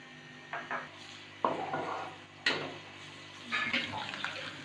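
Stirring and metallic clatter in a cooking pot as garlic paste goes into lightly browned onions in hot oil, a few sharp scrapes and knocks over a faint sizzle, with a voice talking at times.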